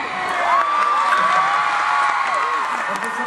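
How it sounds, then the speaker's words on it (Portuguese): Audience at a live Violetta show in Brazil breaking into applause and cheering, a dense crowd roar with high whoops and voices shouting over it. "Um aplauso, não?"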